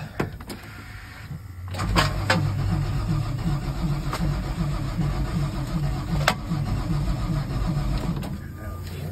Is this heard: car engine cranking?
yes